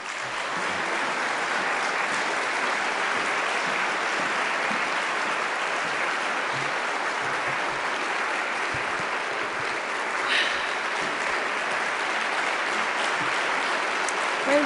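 Sustained, dense applause from an audience at Princeton University welcoming the 2012 Madison Medalist, steady and full for the whole stretch with no speech over it.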